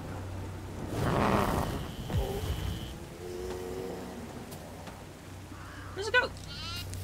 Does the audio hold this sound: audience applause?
no